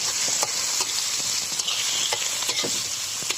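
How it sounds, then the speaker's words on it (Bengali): Sliced onions and green chilies frying in hot oil in a wok, a continuous bright sizzle with periodic scraping stirs of a spatula, close and steady, no voices. "কড়াইয়ে তেল দিয়ে দিয়েছি, কড়াই তেল গরম হয়ে গেছে। পেঁয়াজ মরিচটা দিয়ে সুন্দর মতো ভেজে নেব।"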